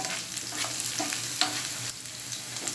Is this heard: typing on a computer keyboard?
no